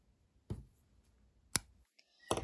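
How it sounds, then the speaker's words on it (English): Scissors snip through yarn in a quiet crafting setting, giving three crisp, separate clicks spaced about a second apart, close and clean against near silence. "So now let's cut off the yarn."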